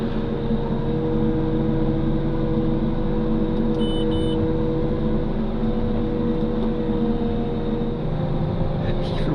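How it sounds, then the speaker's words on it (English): A New Holland TG285 tractor's engine labours steadily while pulling a seeder uphill. The heavy drone is close and continuous, carrying a tonal whine with no breaks. "Just feel the tractor start pulling up there."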